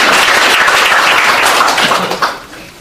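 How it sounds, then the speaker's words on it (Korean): An audience at a talk event claps for two people who asked questions, a loud, steady wash of applause that thins out and fades over its last second. "질문하신 두 분에게 박수 보내주세요."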